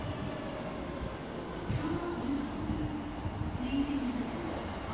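Great Western Railway class 158 diesel unit arriving at Cheltenham Spa station, a steady rumbling roll with faint wheel squeal and a rising engine tone, moderately close, no talk.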